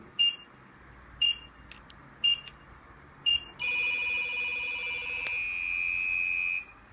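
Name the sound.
phone call signal triggering an airsoft bomb module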